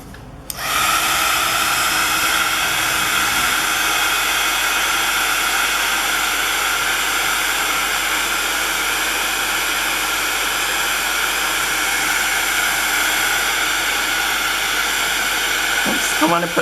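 A heat tool blows hot air over a homemade Christmas craft embellishment made from scraps, a steady, loud, close whooshing roar that runs unbroken for about sixteen seconds and cuts off at the end.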